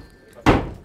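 A door slammed shut indoors, a single loud close thud that stands out from quiet room sound.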